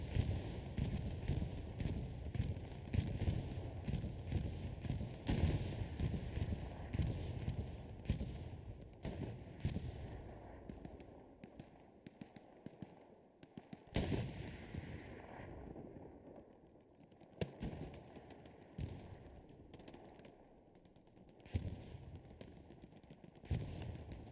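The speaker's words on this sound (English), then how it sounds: "Bombing run's going to drop right here." Repeated explosions from a bombing run in the competitive WWII shooter Hell Let Loose, with booming blasts and crackling gunfire that stay dense early and then thin into scattered bursts over a steady background hum.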